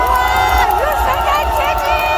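A large candlelight protest crowd roars and cheers in a sustained, loud wall of massed voices with overlapping shouts, close and continuous throughout.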